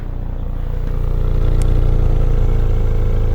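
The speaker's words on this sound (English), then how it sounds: "let you have a listen to the exhaust just burbling" A Nitrous Blue Ford Focus RS idling, its exhaust burbling in a loud, steady low rumble with a faint pulsing throb, close by and alone without voices.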